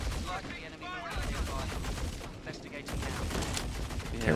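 An explosion-like burst in the Star Citizen video game, thick and noisy across the whole clip, with gunfire-type bursts mixed in and a voice talking over the action.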